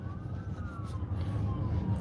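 A police cruiser's siren wails in a steady rising and falling tone during an Ohio police caravan, moderately distant, over a continuous low engine and road rumble.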